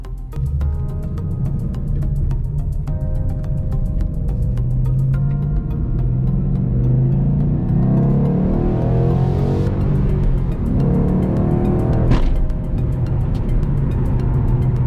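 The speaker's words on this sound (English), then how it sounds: "let's do some full throttle acceleration here" A stock 2012 Ford Mustang GT engine revs up hard under full throttle, the pitch climbing steadily over several seconds, loud and close, with brief shifts.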